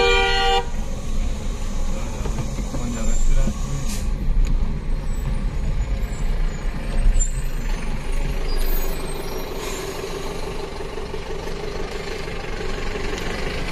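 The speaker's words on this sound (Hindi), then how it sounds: "ये ट्रक जा रहे हैं" Heavy trucks rumble past on a forest road through Jim Corbett National Park at night, with a steady low drone, a horn toot and hissing air brakes, fairly close and without talk.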